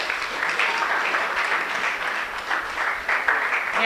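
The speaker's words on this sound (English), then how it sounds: "Let's welcome her with a round of applause." An audience at a May Day lecture claps to welcome a speaker, a dense, sustained round of applause from many hands that swells and dips slightly but stays loud and close throughout.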